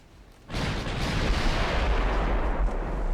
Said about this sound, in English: Secondary guns getting involved.